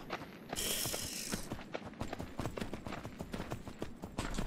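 Horse hooves clip-clop in the game Myth of Empires, a quick steady rhythm of hoof falls close by, mixed with faint mechanical clicking and a short rustling burst near the start.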